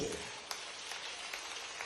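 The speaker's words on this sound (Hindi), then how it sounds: "बहनों जरा जोर से ताली बजाओ" Crowd clapping at an outdoor political rally in a village, a dense, thin patter of applause heard at a moderate distance, with a few sharper claps standing out and faint voices underneath.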